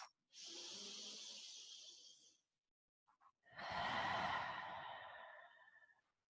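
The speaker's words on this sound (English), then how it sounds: "Deep breath in and out." Slow deep breaths during a stretching and meditation session, a long airy inhale followed after a brief pause by a fuller exhale, close and quiet with no talking.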